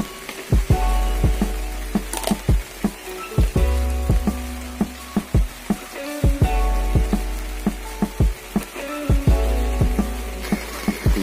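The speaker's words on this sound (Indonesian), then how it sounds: "Hujan disertai angin kencang." Rain driven by strong wind beats down at a campsite, heavy drumming with many sharp, irregular knocks and thumps of drops hitting a surface close by, over a constant rushing wash.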